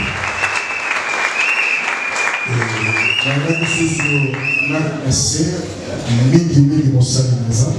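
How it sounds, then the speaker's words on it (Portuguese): A church congregation at a dedication service applauds for the Lord with loud, sustained clapping. From the midpoint, a voice rises over it and carries on above the applause. "Aplaudimos fortemente para o Senhor."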